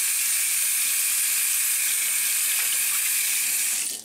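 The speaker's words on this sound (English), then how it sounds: "Let's just rinse it off real quick." Steady, close rush of tap water pouring over a LaCie XtremKey flash drive to rinse ice off it, an even hiss running without a break and cutting off at the end.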